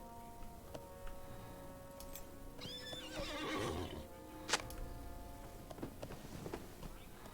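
A horse whinnies over a low, steady background hum, with a few clip-clopping hoof sounds and a sharp knock partway through, heard at night.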